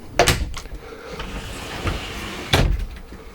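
A sliding door inside a 2021 Carthago Malibu T 460 LE motorhome is pulled shut and latched, giving a couple of close, sharp knocks with a softer rattle between and a final clack as it locks.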